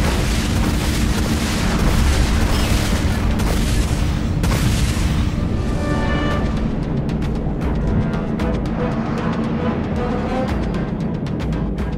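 Flechette weapon launch and explosions in the video game Dreadnought: a dense, continuous roar of booming blasts and heavy rumble, loud and sustained throughout, with crackling bursts toward the end.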